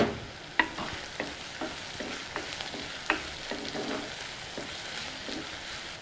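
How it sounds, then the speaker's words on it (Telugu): Green chillies and curry leaves, along with onion pieces, sizzle steadily in a pan for a red cabbage curry, with repeated sharp clicks of a spoon stirring against the pan and no talking. "వీటిని కాసేపు వేగనిద్దాం."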